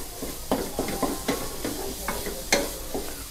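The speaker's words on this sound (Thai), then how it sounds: "ผัดพริกแกงให้หอมนะครับ" Thai red curry paste is stirred and fried in a pan over low heat for pumpkin chicken curry, with a steady soft sizzle and repeated scraping strokes of a spatula at an even rhythm.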